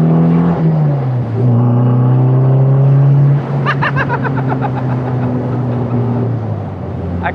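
A Healey by Caton car engine runs while driving at low speed, giving a steady low drone that shifts pitch as it pulls along, loud and close throughout.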